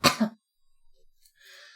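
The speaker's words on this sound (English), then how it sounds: "I'm sorry for that cough." A single sharp cough from a person feeling slightly sick bursts out at the start, followed by near silence and a faint breathy hiss.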